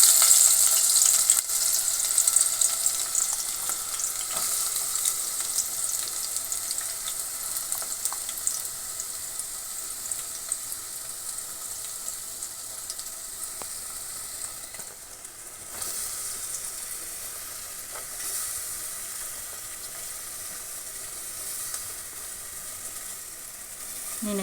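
Green chillies and onion frying in hot oil in a bowl for egg curry, a close, steady hiss and crackle that is loudest at first and then settles into a continuous sizzle with occasional stirring clicks.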